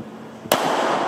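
A single sharp gunshot cracks out loud and close at a police shooting-training session, fired from a kneeling position, leaving a reverberant tail that rings on afterward.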